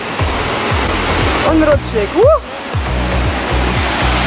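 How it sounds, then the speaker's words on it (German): A jungle waterfall roars as a steady, loud broadband rush throughout, with a person briefly talking and short movement noises over it. "Hier seht ihr schon den Wasserfall."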